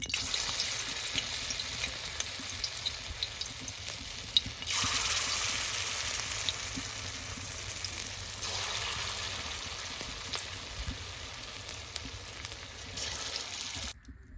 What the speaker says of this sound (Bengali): তেলটা গরম হয়ে গেছে আমি আর হাতের তেল দিয়ে পকোড়াগুলো ভেজে নেব